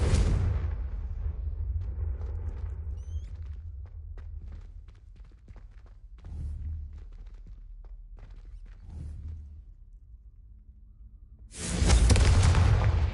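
Confringo blasting spell explosions in the Hogwarts Legacy video game: a loud burst at the start, a few softer thuds and rumbles in the middle, then a loud roaring blast near the end, with no talking.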